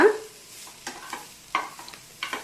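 Beans fry in oil in a pan, a soft constant sizzle broken by four or five brief, sharper scraping stirs spaced across the clip, close and fairly quiet.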